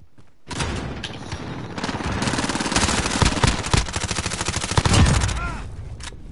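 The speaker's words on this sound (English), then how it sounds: "He's shooting to the wall." Rapid video game gunfire, loud and close, sustained bursts of automatic shots for several seconds after a brief quiet start, with a heavier burst near the end.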